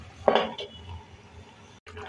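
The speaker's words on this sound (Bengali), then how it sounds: "এরপর আমি এটাকে এখন ঢেকে দেব।" Lid placed over a cooking pan of chicken curry, a single close metallic clank near the start followed by faint kitchen rustle and a brief soft knock near the end.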